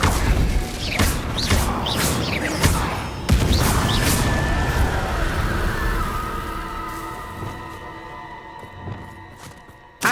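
The Confringo blasting spell from Hogwarts Legacy goes off in a series of sharp crashing bursts during a duel, with a heavy impact near the middle followed by a ringing, fading tail.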